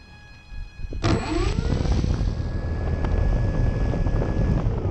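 An electric motor on a Carbon Z Cub RC plane spins up for a scale takeoff, rising fast into a steady high-pitched whine with a buzzy propeller hum. It sounds close and loud and keeps droning without any talk.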